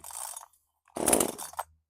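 A small chainsaw being pull-started from cold, giving a short rough burst, then a pause and a louder sputtering catch of about three-quarters of a second as the engine tries to fire, close to the microphone with no talk.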